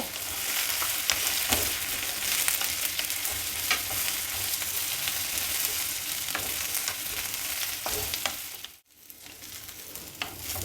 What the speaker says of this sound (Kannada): ಈಗ ಬದನೆಕಾಯಿ ಈರುಳ್ಳಿ ಬೆಳ್ಳುಳ್ಳಿ ಎಲ್ಲ ಹಾಕಿದ್ದು ಚೆನ್ನಾಗಿ ಫ್ರೈ ಆಗಿದೆ